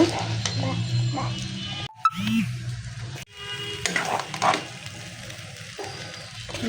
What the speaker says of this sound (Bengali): নুডলস আর মাংস একসাথে আমি ভেজে নিতেছি